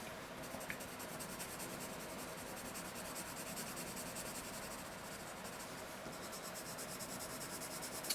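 A colored pencil scratches steadily across paper in a continuous, quiet, dry scraping drawing stroke, heard alone with no talking.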